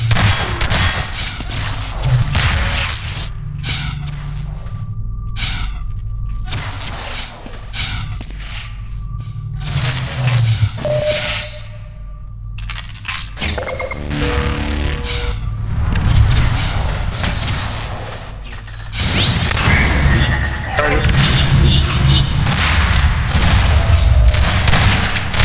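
An RPG rocket fires and explodes in a Half-Life 2 Deathmatch online match, loud booming blasts and whooshing bursts over a dense din of game noise, repeated across the stretch with brief quieter gaps.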